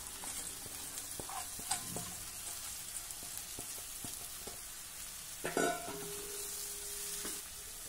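Moth beans tossed into a hot frying pan hiss with a steady sizzle while a spatula scrapes and taps in short strokes, with a brief louder stir burst midway; no voices.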